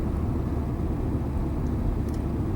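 A Volkswagen car with an 01M automatic transmission cruising at a steady speed on even throttle, heard from inside as a continuous low road and engine rumble with no talking.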